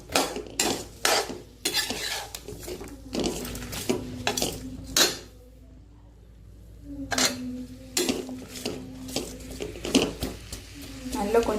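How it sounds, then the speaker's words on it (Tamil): Onions and tomatoes being sautéed and stirred in a metal pan for kara chutney, with repeated scraping and clanking of a spoon against the pan over a soft sizzle, a short quiet pause in the middle, then the stirring resumes. "தக்காளி போட்டு லைட்டாக கொஞ்சம் வதங்கினா போதும்"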